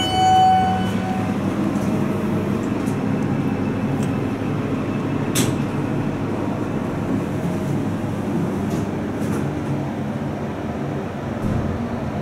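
A light rail train departs a Metrolink station in St. Louis, rumbling steadily at close range, a continuous low mechanical drone with faint squeals and clanks as it pulls away.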